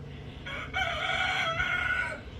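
A hen crows like a rooster in the distance, a single drawn-out call over faint outdoor background noise.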